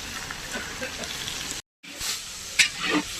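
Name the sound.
meat and fish frying in oil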